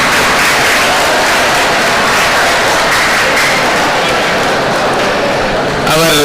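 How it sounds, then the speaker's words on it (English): Audience at a national symposium day in a college hall clapping, a loud, dense, continuous wash of applause with no voices until a brief sound at the very end. "Give a big round of applause."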